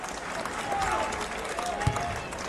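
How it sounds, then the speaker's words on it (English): Basketball crowd at a West Virginia versus Duke game cheering after a made free throw, a broad roar of noise under a commentator talking. "The crowd is on their feet."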